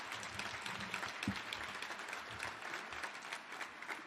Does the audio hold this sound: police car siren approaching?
no